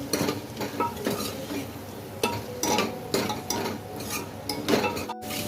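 Potatoes frying in a pan for pav bhaji, stirred with a spoon that scrapes and clinks against the metal at irregular intervals over a soft, steady sizzle, fairly quiet and close.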